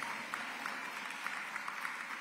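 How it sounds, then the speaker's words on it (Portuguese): A church congregation at a Catholic Mass applauds, a steady wash of many hands clapping, moderately distant and fairly quiet, with no voices on top. "Agora olha para essa pessoa e aplauda ela."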